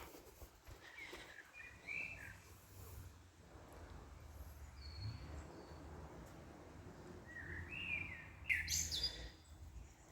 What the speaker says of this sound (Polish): Słyszycie ptaszki? Jak pięknie ćwierkają.